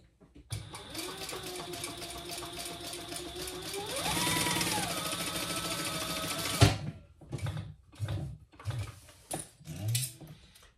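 Sewing machine stitching across the bottom of a small fabric mini wallet, a steady whirring run for about six seconds that rises in pitch midway, then stops abruptly, followed by soft handling noises and brief talk.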